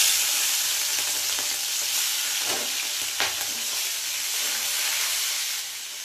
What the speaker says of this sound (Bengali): তো চিংড়ি মাছগুলোকে ভেজে নিই এবারে